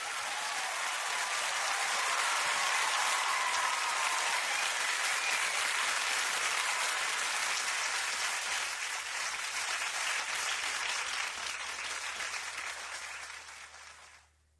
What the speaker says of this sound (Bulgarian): вашите аплодисменти за неповторимия Рей